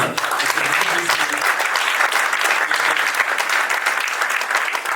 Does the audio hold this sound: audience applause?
yes